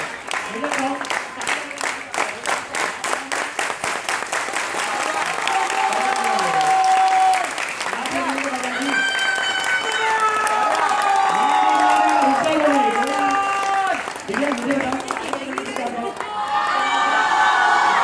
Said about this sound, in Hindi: इतनी तालियां बताओ।